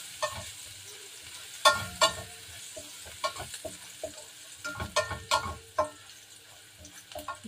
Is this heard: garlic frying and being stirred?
yes